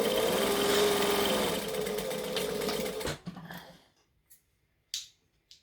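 A sewing machine runs a steady line of stitches through fabric, then stops with a short reverse back-stitch; a few light clicks and snips follow in quiet.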